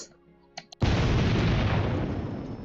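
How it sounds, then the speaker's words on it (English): An explosion in the game The Life and Suffering of Sir Brante, a sudden deep boom after a few soft tones, followed by a loud rumbling roar that slowly fades, with no talk over it. "A bomb went off. There was an explosion going kaboom."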